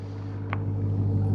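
A 2026 Dodge Durango SRT Hellcat's 710-horsepower V8 idles nearby with a steady, deep rumbling hum that holds an even pitch throughout, with no voices.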